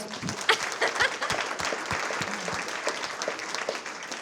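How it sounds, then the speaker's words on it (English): An audience at a chamber of commerce monthly membership meeting claps for a first-time presenter, a dense round of applause with a few sharp, close individual claps standing out, holding steady for about four seconds. "Let's give Ed a round of applause"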